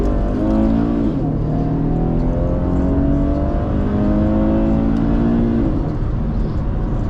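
A car accelerating hard from a roll in second gear, with a loud, close engine drone whose pitch sweeps upward in repeated rising pulls, and a voice talks briefly over it.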